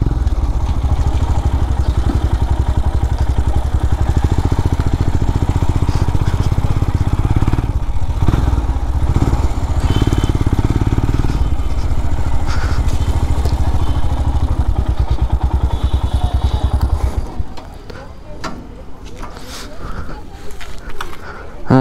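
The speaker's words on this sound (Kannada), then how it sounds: "ಬೈಕ್ ಎಲ್ಲಿ ನಿಲ್ಸೋದು ನೋಡುವ." A motorcycle engine runs loudly and steadily while the bike is parked at the old Anjaneya Swamy temple in Shettihalli, a rough, throbbing idle that cuts off near the end, with a voice speaking over it.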